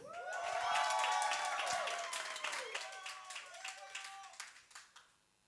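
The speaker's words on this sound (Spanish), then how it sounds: "yo quiero que recibamos con un fuerte aplauso, con honra, a un ministro de la palabra graduado de Rema, Mateus Silva" A church congregation gives a loud round of applause to welcome a guest minister at a Wednesday service; dense clapping swells at the start, then thins into scattered claps under sustained musical tones before fading out.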